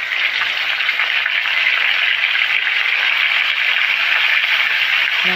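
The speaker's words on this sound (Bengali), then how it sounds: "মাছের মাথাগুলো লাল লাল করে ভেজে নেব।" Rohu fish heads fry in white oil with black cumin seeds in a wok, giving a steady, loud, even sizzle that holds throughout with no voices.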